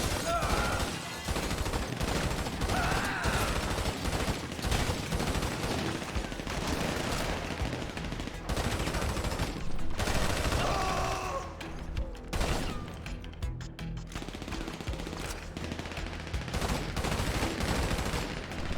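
Sustained video game gunfire from GTA 5 Online survival mode, loud and nearly continuous, with rapid automatic bursts and single shots layered through the whole stretch, a voice speaking faintly underneath.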